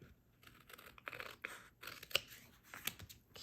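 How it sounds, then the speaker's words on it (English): Scissors trim the white edges off a handmade Christmas card, giving a quiet run of short, crisp snips and paper scratches at close range. "Just trim that up so I get rid of all my little white edges"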